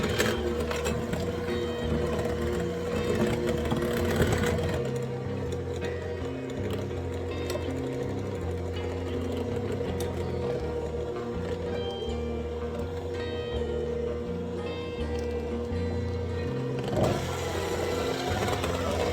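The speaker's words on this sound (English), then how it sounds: "before I add the powdered sugar, I'm going to go ahead and mix this up." An electric mixer beats cream cheese for a chocolate earthquake cake, a steady whirring motor hum running nearly unbroken for the whole stretch, close by, with no speech.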